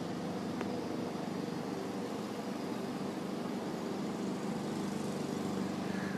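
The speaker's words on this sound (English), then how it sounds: "That's the mower in the park I'm sitting in" Small lawn mower engine running steadily somewhere in a park, a continuous mid-distance drone with no voices over it.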